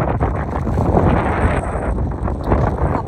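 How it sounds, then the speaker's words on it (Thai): Strong wind buffets the microphone on a snowy mountain at a snowmobile stop, loud rumbling gusts that rise and fall throughout, with no speech. "นี่ลมแรงมากขอบอก"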